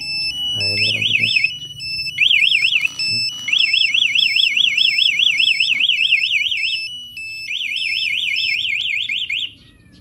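Anti-theft alarm siren on a 2020 Honda CBR150 facelift motorcycle: a loud, shrill, rapidly warbling electronic siren that sounds in repeated bursts with short gaps, close to the listener and alone.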